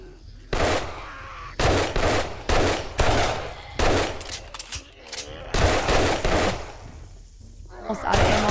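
Guns fire in the zombie survival game 7 Days to Die: loud, close bursts of rapid shots, about seven in a row, separated by short pauses.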